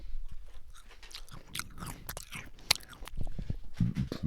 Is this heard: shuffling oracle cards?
no